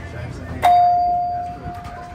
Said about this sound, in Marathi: आणि जेव्हा पण तुम्ही डोर एंटर करता तेव्हा घंटी वाजते किंवा काहीतरी त्यांच्याकडे सेन्सर असतं